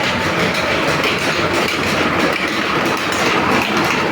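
An electric rice mill machine runs steadily inside a village mill, a loud, dense, continuous mechanical roar with rattling, rhythmic clatter and no pause across the stretch.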